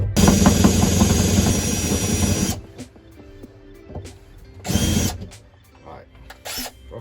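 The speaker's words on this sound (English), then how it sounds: "Put them in that drill right there and hope for the best on it." A power drill fitted with a screw extractor grinds steadily on stuck screws for about two and a half seconds, then stops; a few short, softer bursts and clanks follow.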